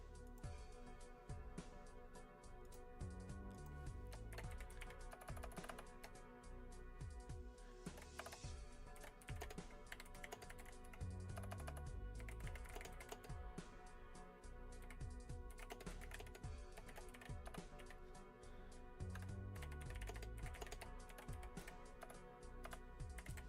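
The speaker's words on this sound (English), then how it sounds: "I'm just typing." Fingers type on a computer keyboard in a fast, steady run of clicky keystrokes that continues for over twenty seconds, close but quiet, with a faint constant hum underneath.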